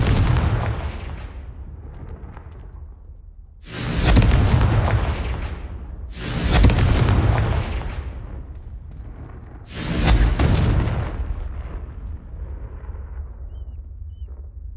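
Three loud, booming fire-spell explosions from the Confringo spell in the video game Hogwarts Legacy, evenly spaced a few seconds apart, each with a sharp onset and rumbling decay over a low background.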